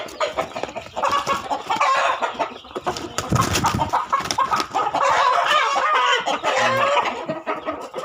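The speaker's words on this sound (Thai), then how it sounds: "ไก่หนุ่มครับ ไก่หนุ่มนะครับ" Several young roosters cluck and crow nearby, overlapping calls and squawks filling the whole stretch, with a brief scuffling burst in the middle.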